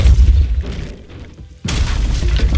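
Incendio and Depulso spell blasts in the Hogwarts Legacy video game: a loud, deep booming rumble that fades into a brief lull, then a second heavy blast bursts in and keeps rumbling.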